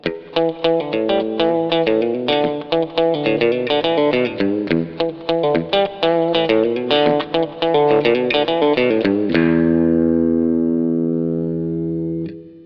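Electric guitar driven through a Wampler Pinnacle distortion pedal plays quick, thin, trebly blues licks, loud and alone, then ends on a held chord that rings out and slowly decays.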